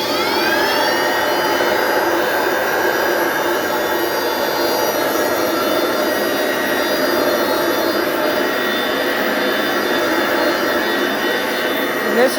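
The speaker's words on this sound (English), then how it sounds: "here comes the Hoover Wind Tunnel Platinum Plus. We're going to fire this up" A Hoover Wind Tunnel Platinum Plus upright vacuum cleaner runs on its low setting, with a loud, steady, whining roar that holds unbroken throughout.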